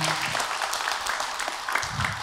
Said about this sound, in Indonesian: Tepuk tangan Ibu buat Abi.